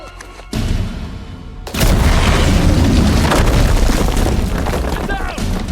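A loud, close explosion in the video game Uncharted 4 erupts after a brief quieter stretch, followed by sustained roaring debris and rumbling with gunfire-like crackle, while a voice shouts over the blast.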